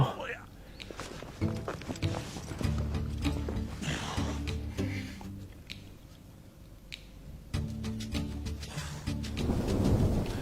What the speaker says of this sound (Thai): พายุหน้าร้อนมาเยือนซีกโลกนี้โดยไม่มีปีมีคลุย